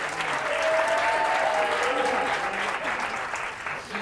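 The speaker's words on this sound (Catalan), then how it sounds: "Aplaudiment per ells." Studio audience clapping on a Catalan TV quiz show, a full, continuous round of applause from a group that stays even in loudness, with a faint murmur of voices underneath.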